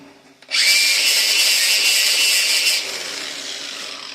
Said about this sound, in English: I'm going to hit that with the wire wheel again too